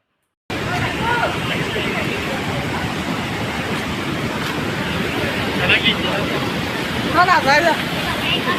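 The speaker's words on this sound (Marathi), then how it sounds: "हे बघा पाण्याचा प्रवाह किती इथे जास्त आहे" Strong flowing water rushes at a temple beside a Shiva idol, a dense continuous roar with wind buffeting, and faint chirps rise above it near the end.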